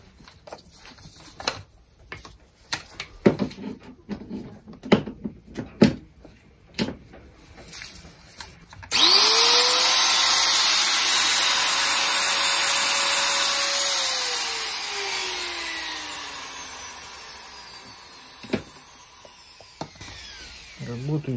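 A repaired angle grinder follows scattered handling clicks and knocks: its motor switches on with a rising whine, holds a loud, steady high-pitched run, then winds down gradually.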